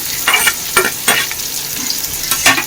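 Thinly sliced onions fry in hot oil while being stirred, giving a loud close sizzle broken by a few sharp scraping strokes.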